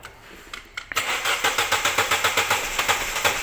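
A car engine that is slow to start cranks on its starter, a few short scrapes giving way to a rapid, even series of about fifteen loud rhythmic chugs, close and without talk.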